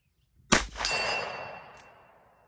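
A .45 ACP revolver bullet strikes a big white steel gong target in a single loud, close clang followed by a long ringing decay.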